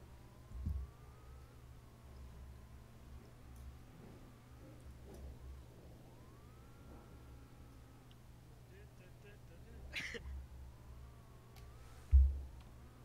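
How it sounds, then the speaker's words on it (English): Simulated car engine in the Garry's Mod ACF car rally on the Boreas map, a faint steady drone with rising and falling revs and wheel spin, a few sharp knocks along the way, under quiet talk. "This car has very advanced sound effects."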